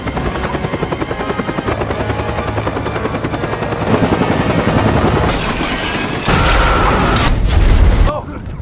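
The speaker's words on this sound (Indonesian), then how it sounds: "memerintahkan helikopter untuk menembak satu persatu dari mereka" A military helicopter in a film action scene fires on targets: a dense, loud roar of rotor and engine with bursts of gunfire and heavy booms layered throughout, rising to a louder blast near the end before dropping away.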